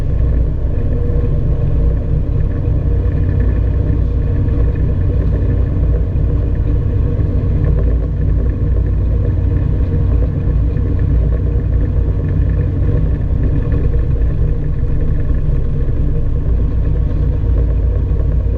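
A Czech SportCruiser light aircraft taxies toward the run-up area, its piston engine giving a constant, close rumble with no talk over it.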